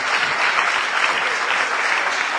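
A hall audience at a Guadeloupe regional ceremony honouring top baccalaureate graduates claps loudly and steadily, a dense, even roar of applause with no voices on top.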